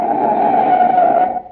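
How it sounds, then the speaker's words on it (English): Car tyres skidding as a desperate motorist jams on the brakes in an emergency stop, a single loud, sustained screech held for over a second before fading out, heard alone. "That's the sound of a car as a desperate motorist has jammed on the brakes in an emergency."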